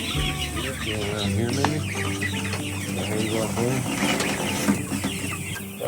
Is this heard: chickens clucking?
yes